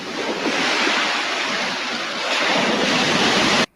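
Ocean surf roars steadily and loudly, with a brief lull in the middle before swelling again and then cutting off abruptly, with no talking.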